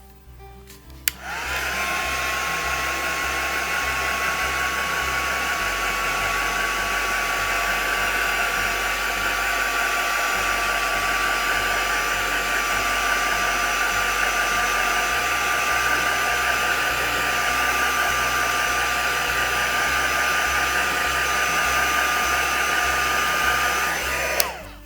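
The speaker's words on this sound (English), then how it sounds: "I'm just going to give it a bit of a dry with the heat gun." A heat gun drying embossing powder blows in one continuous, close, steady whine with a rushing airflow hiss, clicking on near the start and cutting off at the end, alone without talk.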